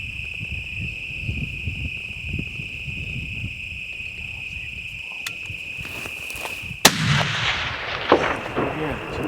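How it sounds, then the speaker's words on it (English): A single sharp rifle gunshot fired at an elk during a hunt in the Colorado wild, cracking out once mid-clip over a steady insect drone and outdoor ambience, followed by rustling movement and no talk. "He shot after him."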